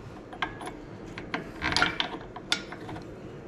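A hand ratchet clicks in short, uneven bursts while tightening the bolt on a Brembo brake caliper, close and fairly quiet, with no talk.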